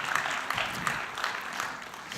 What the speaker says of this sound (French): Merci Marlène. On peut l'applaudir